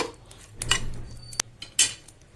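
Lid being placed on a pot of liver curry, a few short metallic clanks and clatters up close, with one sharp knock near the end, no voices.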